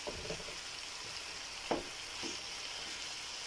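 Garlic and onion with meat sizzle in a pan for bolognese sauce, a steady close frying hiss broken by a few spoon stirs and scrapes, with no talking.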